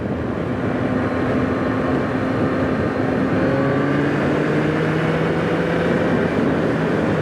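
A 2024 Yamaha MT-09 motorcycle engine drones steadily while riding, a loud continuous roar with rising and falling tonal pitch as revs shift, wind noise blended in, no talking.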